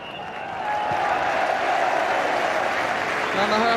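Home crowd at a Tottenham Hotspur versus Liverpool football match in 1984 applauding at half-time, a loud, sustained wash of clapping and cheering from a large stadium crowd, with a commentator talking over it.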